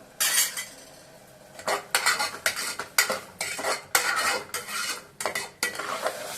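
Rice for Nellore-style tomato rice is stirred in a pan, with a ladle scraping and clinking against the metal in a quick rhythmic series of strokes over a faint sizzle.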